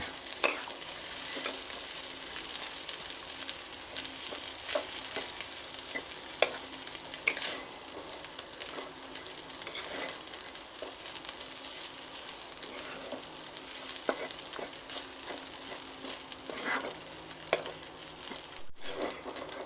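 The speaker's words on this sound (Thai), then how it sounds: "เนื้อปลาดุกลงไปผัด การผัดปลาดุกตรงนี้เขาช่วยลดความคาวลงไปด้วย" Minced catfish meat is stir-fried in a pan for a spicy catfish larb, giving a long, moderately quiet sizzle broken by frequent spatula scrapes and light clicks.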